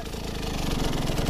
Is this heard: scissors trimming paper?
no